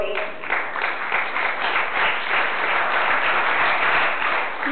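A conference audience at a national business and technology event gives a guest speaker a round of applause, a steady, fairly loud burst of crowd clapping that holds evenly with a brief voice at the start.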